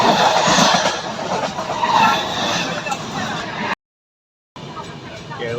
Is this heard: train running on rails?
yes